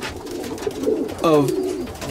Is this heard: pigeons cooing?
yes